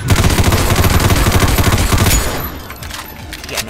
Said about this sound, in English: I'm not gonna use the pistol against these guys, you know. Ventilate them with a shotgun.